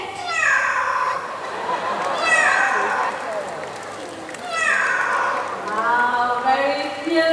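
A child imitates a cat's meow with a few drawn-out, rising and falling vocal cries, close and fairly loud, separated by short pauses over a faint room background.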